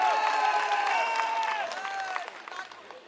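Crowd applause at an Aam Aadmi Party public rally, dense clapping with a speaker's amplified voice ringing over it, fading out toward the end.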